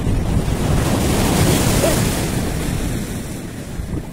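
Sea waves surge onto the sand at Digha beach as the tide rises, a steady loud roar of surf mixed with gusting wind on the microphone, easing slightly toward the end, with no voices.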